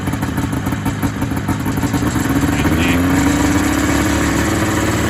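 A Polaris Indy 500 snowmobile with a two-stroke twin runs steadily nearby, a buzzing idle that rises slightly in pitch partway through as the revs climb.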